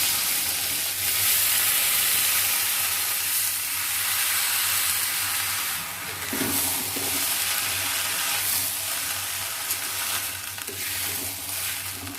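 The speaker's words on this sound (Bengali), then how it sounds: "মিডিয়াম ফ্লেমে এই চালগুলোকে আমি 4-5 মিনিট মতন সুন্দর করে ভেজে নেব।" Gobindobhog rice fries over a medium flame in hot white oil with crushed whole garam masala and four bay leaves, giving a steady, close sizzle that runs the whole time with a few faint stirring scrapes.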